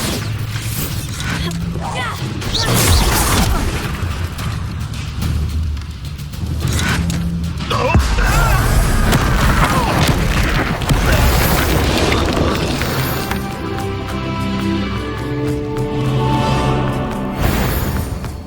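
The Bombarda spell detonates in Hogwarts Legacy, a loud booming blast followed by rumbling debris and crumbling crashes amid game sound effects, with a voice speaking nearby.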